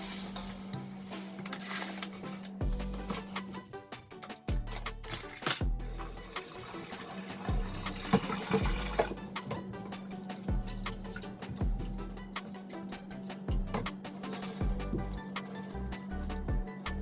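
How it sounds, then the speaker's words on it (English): Basmati rice being washed under running tap water in a home kitchen, with a continuous splashing rush, grains swishing and occasional clinks of a pot over about seventeen seconds. "So I'm just gonna wash our rice now and get it ready to go on fire"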